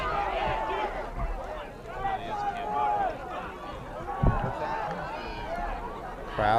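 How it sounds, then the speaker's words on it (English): Crowd noise at a boys' varsity soccer game, a steady hubbub of many voices and shouts carrying across the field, with one brief sharp thump partway through. "Crowd getting into it"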